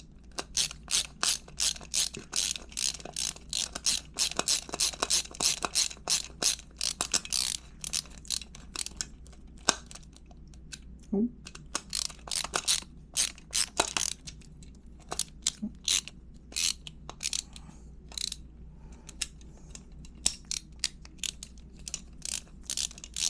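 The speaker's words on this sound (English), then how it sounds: "So I'm going to use my screwdriver, and we're just going to go ahead and tighten those down." A screwdriver tightens screws on a small industrial four-square outlet cover, producing a long run of rapid, sharp ratcheting clicks close up, in steady bursts with brief pauses throughout.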